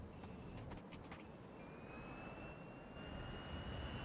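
A small plane in Factorio drones on with a steady, fairly quiet engine hum and a faint rising whine, a few light clicks early on.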